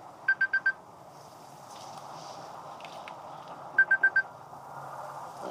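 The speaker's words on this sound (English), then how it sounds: "That's my aunt calling me back." An incoming call on a mobile phone rings twice in short bursts of four rapid electronic beeps, close and clear over a quiet room murmur.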